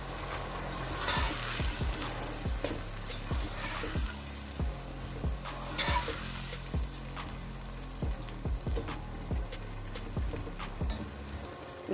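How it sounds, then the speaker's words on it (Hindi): Urad dal lentils sauté in a pan with a steady sizzle and fry, broken by regular scraping and stirring strokes of a spoon, close and alone without speech. "इसको 2 से 3 मिनट हम इसको भूनेंगे।"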